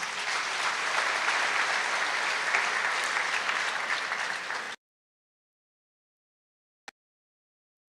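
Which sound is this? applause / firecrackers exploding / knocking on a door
applause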